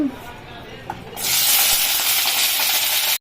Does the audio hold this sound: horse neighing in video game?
no